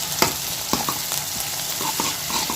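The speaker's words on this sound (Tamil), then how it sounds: "பூண்டையும் சேர்த்து வெங்காயத்தோடு நல்லா வதக்கிக்கிறோம்." Garlic and onion sautéing in a pan for fish curry, a continuous close sizzle broken by repeated sharp scraping stir clicks at an uneven rhythm, no voices.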